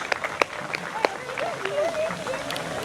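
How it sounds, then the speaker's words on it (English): A crowd at the Flugel Fest wing-eating contest in Highland, Illinois, gives scattered claps with cheering and whistling voices rising over them, moderately close and lively. "Everybody, round of applause for Everlasting Etch."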